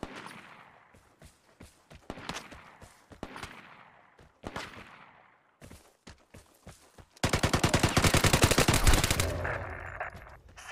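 Gunfire in the multiplayer shooter game Vigor: scattered sharp single shots and short bursts, then a dense, loud, sustained volley of rapid automatic fire that cuts off abruptly near the end.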